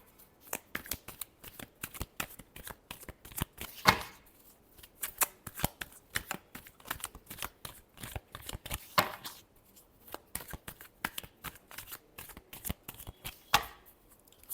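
Tarot cards being shuffled by hand, heard as close, repeated crisp riffling and flicking bursts with short pauses between, alone with no talk.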